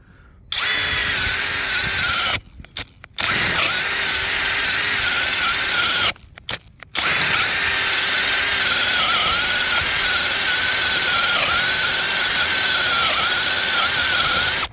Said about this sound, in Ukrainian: Свердлиться він дуже класно